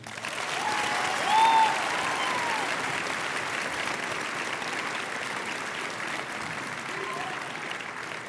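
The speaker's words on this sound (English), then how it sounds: "Join me in another round of applause." Sustained round of applause from an audience at a school Veterans Day ceremony, an even, moderately distant patter of many hands with a brief louder swell near the start, tapering slightly toward the end.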